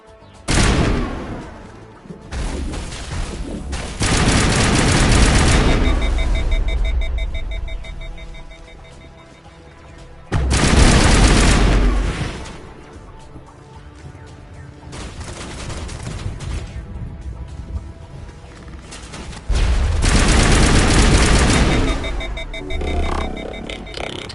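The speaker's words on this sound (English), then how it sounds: "We must find a way to disable their artillery." Artillery and gunfire in the Mass Effect Legendary Edition video game: repeated loud bursts of heavy firing and booming blasts, each lasting a second or two, separated by quieter stretches of rumbling battle ambience.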